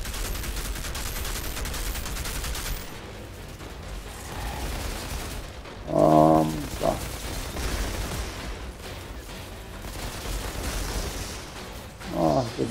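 Minigun fire in the video game Outriders Worldslayer: a sustained, dense rattle of rapid shots mixed with bursts and impacts across the combat, with short tonal game effects popping up now and then.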